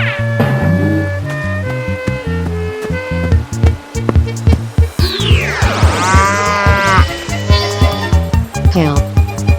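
A cow moos several times in a game soundtrack, over busy bright music with sweeping tones and steady beats.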